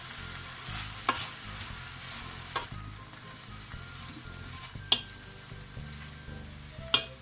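Chard and ricotta being stirred in a frying pan, a steady close sizzle with utensil scrapes and a few sharper clinks against the pan, no talk.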